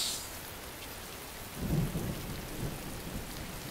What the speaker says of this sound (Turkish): Yağmur damlalarının yüzüme vurmasını seviyorum ben.